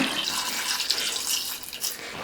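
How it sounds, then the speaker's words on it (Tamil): Water runs and splashes steadily into a pressure cooker holding breadfruit pieces, a close, continuous pour with no talk over it. "இப்போ காய் முழுகிற அளவுக்கு தண்ணி சேர்த்துக்கலாங்க"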